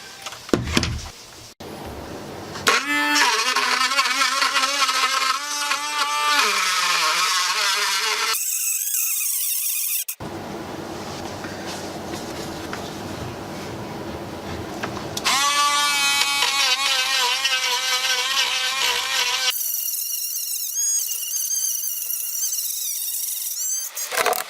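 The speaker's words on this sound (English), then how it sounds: "So I'll be using my Dremel tool to sort of widen out a much larger" A Dremel rotary tool grinds at the speaker opening in a Roland Micro Cube amp, its high whine rising and dropping in several bursts separated by brief pauses, loud and close.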